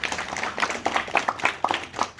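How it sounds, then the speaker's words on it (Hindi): Dinner guests at an evening speech gathering break into moderate clapping, a dense patter of individual hand claps that carries on steadily. "इसके लिए एक बार तालियां।"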